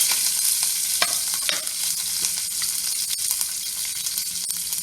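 Cumin seeds and curry leaves crackle in hot oil for palak rice, a close, busy sizzle with sharp pops and stirring scrapes throughout, steady and fairly loud without speech.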